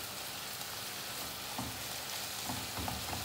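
Tomato and pepper filling for gözleme frying in a pan, a steady soft sizzle with occasional faint stirring clicks, heard alone at close range.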